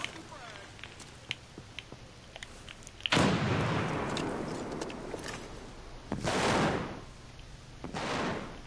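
Grenade explosions in a video game: a sharp, loud blast followed by a long roaring decay, then two more bursts, with small clicks and pops scattered before them.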